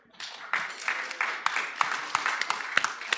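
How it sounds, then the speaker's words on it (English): A small audience at a police command meeting claps, with the sound swelling quickly into moderate applause and individual sharp claps standing out throughout. "Round of applause for Howie"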